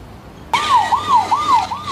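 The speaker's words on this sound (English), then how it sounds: "it's got a siren, I'm afraid." A wailing emergency siren starts abruptly and rises and falls in steady repeated sweeps, loud and close, with no talk over it.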